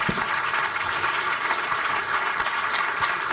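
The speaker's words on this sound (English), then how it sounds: "Please, big applause for Monsieur Matt Damon." An audience at a Cannes film festival event applauds Matt Damon, a dense, continuous wave of clapping from many hands, loud and steady throughout with no voices over it.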